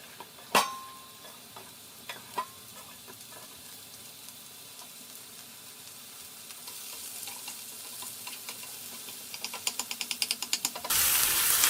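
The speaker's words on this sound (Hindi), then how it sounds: "इसमें प्याज डाल के फ्राई कर लेते हैं हल्के से" Onions frying lightly in a teaspoon of oil in a pan, a steady low sizzle running throughout with a few sharp clinks early on and a burst of louder crackling and spatter near the end.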